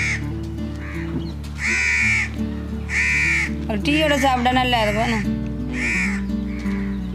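Crows caw repeatedly in a rural Jaffna village kitchen setting, a series of harsh calls roughly every second, nearby and clear, while a person speaks over them.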